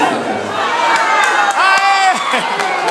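A concert crowd shouts and cheers loudly at a show in Pato Branco, a dense sustained roar of voices and whoops competing for a t-shirt.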